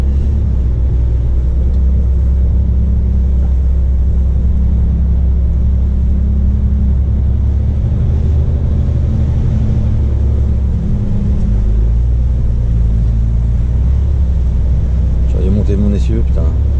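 A car engine drones loudly and steadily as the wheels spin on a slippery, rain-soaked slope in the Tarn countryside, a continuous heavy rumble with wind-like noise, and someone talks briefly near the end.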